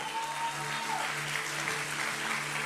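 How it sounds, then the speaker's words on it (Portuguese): A church congregation claps steadily and continuously, a faint, even wash of applause with a soft musical tone in the background. "Você pode aplaudir o Senhor?"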